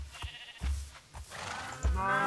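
A baby cow in Minecraft lets out a few short, high-pitched moos, close and fairly loud, the last one drawn out and rising at the end, with no talking over it.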